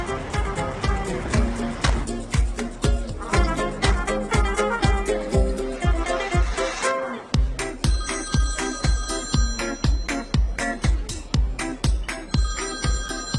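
A phone ringtone plays in a comedic office setting, a loud, steady, rhythmic repeating ring that runs continuously for the whole stretch with no talking over it.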